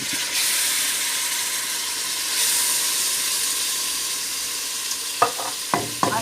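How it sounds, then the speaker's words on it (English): Onions frying in a pot over a fire for a bean stew give a steady, close sizzle and hiss, with a few sharp stirring clatters near the end. "that's the onions cooking. So now I'm gonna add the tomatoes."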